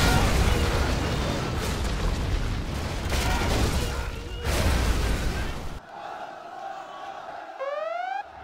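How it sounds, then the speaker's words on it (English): A loud, roaring particle cannon blast with crowd-like rumble fills most of the clip in the video game Command & Conquer: Generals Zero Hour, then cuts to quieter electronic tones and rising sci-fi sweeps near the end. "Particle cannon activated."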